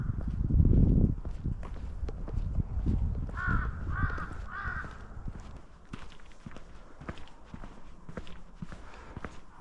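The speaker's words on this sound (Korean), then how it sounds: "아까 까마귀는 혹시 너 잘못 가고 있다고 말을 해주려는 거 아니었을까?" Crows caw three times in quick succession from some distance on a mountain trail, heard over crunching footsteps and light outdoor ambience.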